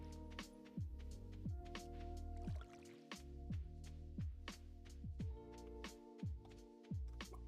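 Stardew Valley watering can splashing onto crops, a short wet drip-and-squish effect repeated about every half second over a steady game music bed.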